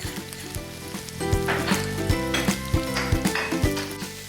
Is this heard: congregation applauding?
no